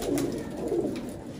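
Rampuri pigeons coo in a soft, low, continuous murmur at close range, with several overlapping throaty calls and no talking.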